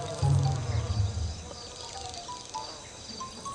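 Flies buzzing in a garden, a faint low drone that swells briefly near the start and then thins into soft, scattered buzzing over quiet background.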